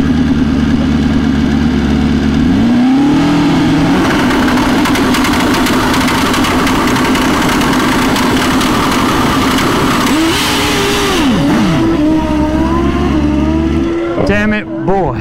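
A turbocharged Suzuki GSX-R 1000 drag bike at a drag strip on qualifying day roars loudly and continuously, with its revs climbing and falling through several pitch sweeps as the tire spins, and a voice is heard over it.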